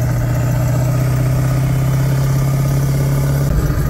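A 7.3 Power Stroke diesel with an aftermarket turbo wheel idles close by, a steady loud low rumble with a droning tone that holds evenly and shifts slightly near the end.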